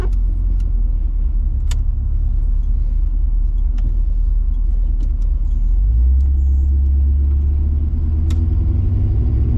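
A 1987 Chevrolet C10 pickup with a 6.0L LS engine drives along, its steady low engine rumble and road roar filling the cabin and deepening a little partway through, with faint ticks and clicks over it.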